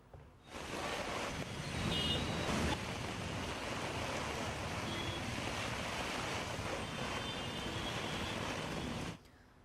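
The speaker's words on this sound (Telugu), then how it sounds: "హైదరాబాద్లో పలు చోట్ల భారీ వర్షం కురుస్తూ ఉంది." Heavy rain pours across flooded Hyderabad streets in a steady, dense broadband hiss that starts abruptly, holds loud and even for about nine seconds, then cuts off, with no voices.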